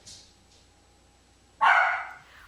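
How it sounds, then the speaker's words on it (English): A single loud dog bark bursts out close by near the end, preceded by quiet background with a faint high squeak. "the dog just keeps on barking like immediately when he says 3, 2, 1"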